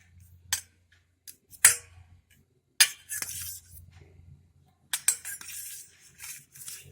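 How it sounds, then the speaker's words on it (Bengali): A spoon stirs through an egg mixture to coat an egg chop, giving sharp, scattered clinks against a bowl in small clusters separated by near-silent pauses. "চামচ দিয়ে এইভাবে একটু ঘুরিয়ে নিব।"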